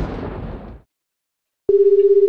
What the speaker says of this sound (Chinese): 电话